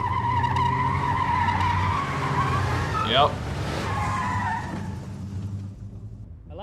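A car from the film Memento pulls away with a brief tire skid under a swelling engine, with movie music and voices nearby, while someone briefly speaks.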